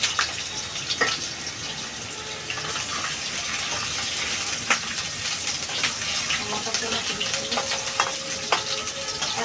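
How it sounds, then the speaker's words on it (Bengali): Potatoes frying in hot oil for a Bengali crab curry give a steady, close crackling sizzle with occasional sharper pops and some utensil clatter, continuous throughout with no voices. "তেলটা আমার গরম হয়ে গেছে আমি আলুটা দিয়ে দেবো আলুটা হালকা ভেজে তুলে নেবো আগে"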